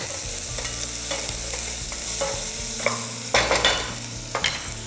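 Garlic and lemongrass fry in a pan over low to medium heat, a constant close sizzle broken by a few sharp scraping stir strokes near the end.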